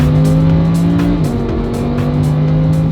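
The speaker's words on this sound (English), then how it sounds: "Luxury motor cars, driving the Huracan 610." A Lamborghini Huracan 610 engine drones loud and close while driving, a steady sustained tone whose pitch dips slightly partway through, with no voices over it.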